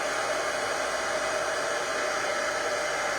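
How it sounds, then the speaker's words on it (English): A handheld heat tool blows steadily at close range to dry a craft card, a loud, even whooshing hiss of hot air that holds without a break throughout. "Yeah, I'm gonna heat that really quick. If I could reach my heat tool here. Sorry, it's gonna be loud for a second."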